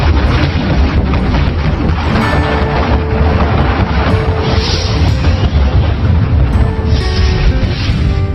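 An atomic bomb explodes over Hiroshima, rendered as a loud, continuous low roaring rumble that fills the whole stretch without a single sharp onset.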